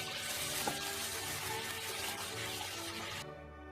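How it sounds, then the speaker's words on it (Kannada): Half a cup of water poured into a bowl of Gobi Manchurian masala, a steady close splashing rush lasting about three seconds before stopping abruptly, with no talk over it. "ನೀರು ಒಂಜಿ ಅರ್ಧ ಕಪ್ಪುದಾತು ಪಾಡ್ನ ಯಾವು"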